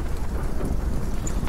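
Steady rain with a low rumble in The Witcher 3 video game, a continuous dense hiss of falling water filling the short stretch, with no talking.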